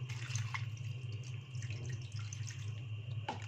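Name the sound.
pouring a glass of water over stuffed chicken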